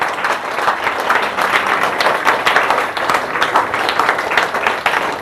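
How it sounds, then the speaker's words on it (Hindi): Loud, dense applause from an audience at a Hindi-language health testimonial gathering, steady and close with no pauses, rolling on for several seconds without speech. "उसके लिए एक जबरदस्त ताली बजाइए।"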